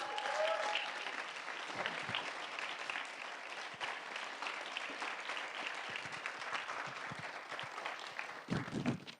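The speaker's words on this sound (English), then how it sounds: "How about a round of applause?" An audience at a startup accelerator demo day claps for several seconds, a dense, steady patter of many hands that fades slightly toward the end.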